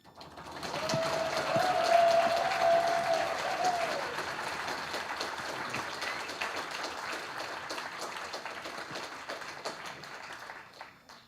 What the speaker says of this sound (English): please give me a big applause for Max, Matteo, Tommy, and Jari